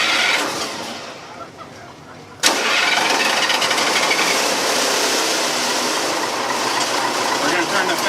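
The engine of an M14/41 tank starts up with an abrupt loud catch after a few seconds of whirring cranking, then settles into a steady, dense, roaring idle close by.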